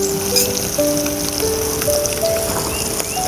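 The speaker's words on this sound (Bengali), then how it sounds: "আমার মাছটা ভাজতে দিয়েছি" Small puti fish frying in a miniature pan, a close, steady crackle and sizzle with scattered pops and thin tonal ringing across the whole short stretch.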